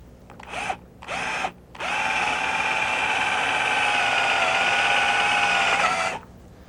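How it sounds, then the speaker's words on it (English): A power drill bores out screw holes in a boat hull for rub rail replacement. Two short bursts of drilling come first, followed by one long, steady drilling run that winds down at the end. "Now we need to drill out our marks"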